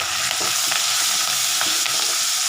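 Tamarind extract poured into a hot pan for Nellore puliyodhara, sizzling loudly and steadily while being stirred, with scraping stir sounds throughout and no talk.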